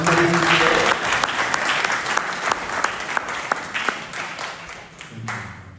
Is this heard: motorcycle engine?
no